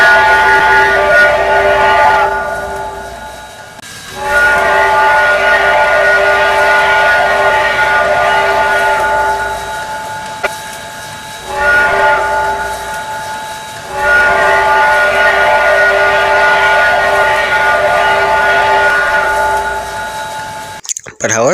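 Canadian National 3254 steam locomotive sounds its untuned whistle in three long, loud, sustained chime blasts, each dropping off briefly before the next.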